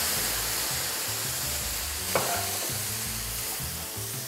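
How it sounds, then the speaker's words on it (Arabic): White wine hits a hot frying pan of mushrooms, shallots and garlic, giving a steady, loud, close sizzle and hiss, with one brief spattering burst midway and no voices. "وهلا رح اعمل لهم دي جليزنج بوايت واين"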